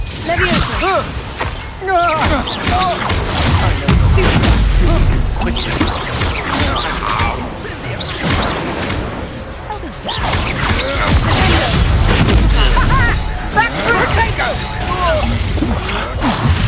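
Loud, dense video-game spell combat in Hogwarts Legacy, with crashing, shattering impacts, whooshes and an explosive Bombarda blast layered under voices speaking and shouting.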